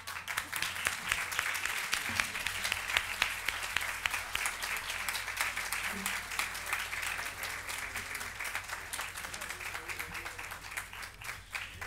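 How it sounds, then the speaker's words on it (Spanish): Sustained audience applause in a hall, many hands clapping steadily at moderate distance for several seconds, with a low hum underneath. "Pueden aplaudir."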